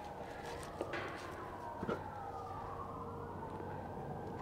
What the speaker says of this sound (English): The sirens get to him every time.